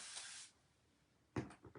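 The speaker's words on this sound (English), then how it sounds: "I need to spray some water in that for sure." A spray bottle giving one quick, sharp hiss of water mist, close and soft, followed after a pause by a few light clunks of the bottle being handled, with no voices.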